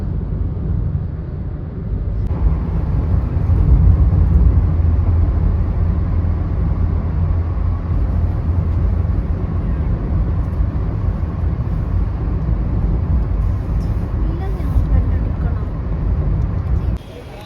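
Steady, muffled traffic rumble heard from inside an Uber cab moving through Mumbai, a constant low road and engine drone with faint higher noise that holds for the whole stretch.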